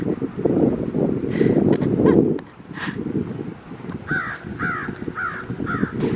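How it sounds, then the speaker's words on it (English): A crow caws outdoors on a breezy morning, a run of harsh repeated calls in the latter half, with wind rustle and a person talking earlier. "Our bird friend up here this morning has got something to say about it."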